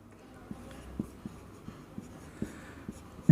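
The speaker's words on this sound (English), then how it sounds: "So write down number 3." Pen or chalk writing out a maths proof, heard as a steady scratchy stroke with regular taps about every half second, fairly close and moderately loud.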